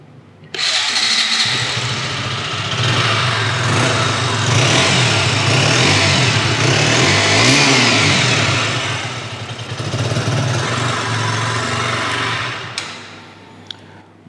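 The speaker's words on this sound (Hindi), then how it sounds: "इसके एग्जॉस्ट नोट को एक बार सुन लेते हैं।" A 2021 KTM Duke 125 BS6 motorcycle's single-cylinder engine fires up and revs loudly and steadily up close, the exhaust note rising and falling through several blips before settling back toward idle, with no talking over it.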